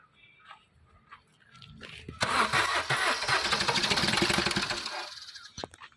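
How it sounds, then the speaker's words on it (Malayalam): A Maruti Suzuki Ertiga engine with a starting fault cranks briefly and catches on a hard, uneven start, then settles into a steady mid-pitched running note heard up close before it cuts off. "എൻജിൻ സൗണ്ട് ഒന്ന് കാണിച്ചു."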